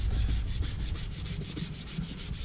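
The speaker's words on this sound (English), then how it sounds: "So we just rub this on and rub it into the leather." Cotton rag rubbing Pro Oil Dye into leather in long strokes, a steady close scrubbing friction with a faint repeating rhythm, continuous throughout with no voices.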